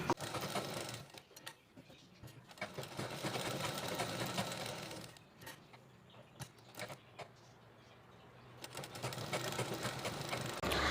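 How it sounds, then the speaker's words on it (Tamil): Sewing machine running steadily while edge stitching a chudidhar pocket, a continuous quiet mechanical whirr with brief pauses and restarts as the fabric is guided. "இதுலேயும் நீங்கள் ஒரு எட்ஜு தையல் மாதிரி கூட போட்டுக்கிடலாம்."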